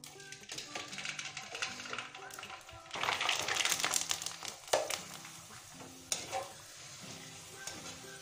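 Sago sandige, tapioca crisps, fry in hot oil with a crackling, bubbling sizzle that swells and fades, broken by scattered taps and clatters.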